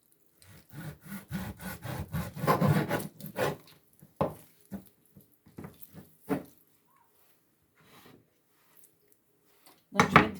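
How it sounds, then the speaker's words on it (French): A knife cuts beef on a board in short strokes, with a busier run of rasping cuts early on, then scattered single strokes with quiet gaps and a final burst of cutting. "Là, je découpe ma viande."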